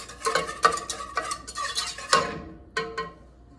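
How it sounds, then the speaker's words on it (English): Whisking a broccoli cheese casserole mixture in a pot: about eight quick, rhythmic scraping strokes of a whisk, close and clear, with a brief pause before the last two strokes. "I'm going to whisk it good, make sure that it's getting very well mixed up."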